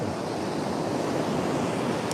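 Waves wash up onto a shoreline on a hike, a steady, loud rush of surf with wind noise across the whole span and no voices.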